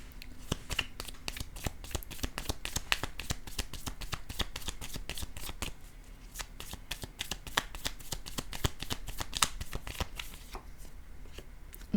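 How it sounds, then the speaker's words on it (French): Tarot cards riffled and shuffled by hand in rapid, continuous flurries of crisp flicks, close and fairly quiet, with no talking. "Je vais déposer une carte sur"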